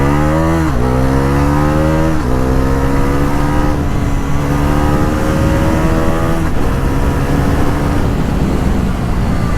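A 2024 Bajaj Pulsar NS 400Z motorcycle accelerates hard, its engine note loud and close, climbing in pitch through several gear changes with brief dips between rising revs.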